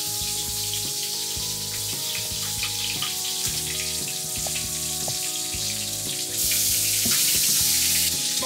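Fresh linguine goes into a pot of boiling salted water, giving a steady bubbling sizzle with scattered clinks, close and constant, which gets brighter and louder toward the end without anyone speaking.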